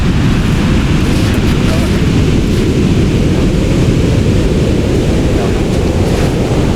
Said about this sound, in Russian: Звук такой гром прямо от мощнейших волн.